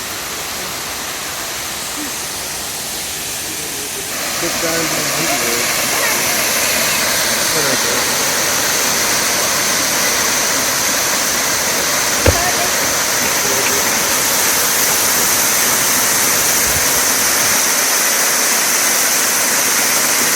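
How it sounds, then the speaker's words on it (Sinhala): Lover's Leap waterfall in Nuwara Eliya, Sri Lanka, gives a loud, steady roar of falling water that holds throughout and grows slightly fuller after the first few seconds. "සුන්දරව කඩාගෙන හැලෙන දියැල."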